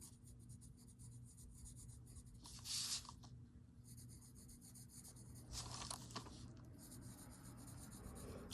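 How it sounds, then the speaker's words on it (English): A graphite pencil scratches and rubs gently across a paper Zentangle tile during shading, two short bursts of stroking between quieter soft rubbing, close and faint, with no talk. "I'm just gently stroking the graphite on"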